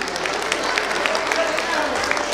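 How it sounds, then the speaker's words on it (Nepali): An audience at a school Parents Day event claps to welcome guests, giving dense, steady applause with sharp individual claps throughout, close and moderately loud. "प्लिज उहाँलाई पनि जोरदार तालीले स्वागत गरौँ"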